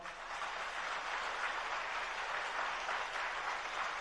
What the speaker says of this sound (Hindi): तो अच्छी जोर से तालियां बजाओ।